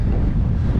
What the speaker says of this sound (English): it's dead windy